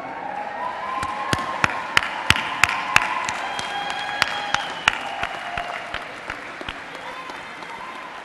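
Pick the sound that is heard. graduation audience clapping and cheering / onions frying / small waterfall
graduation audience clapping and cheering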